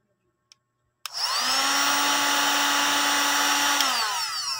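A handheld blower used while sealing jars of chili garlic oil starts abruptly after a brief click and then roars steadily and loudly at one pitch, winding down near the end; no talking.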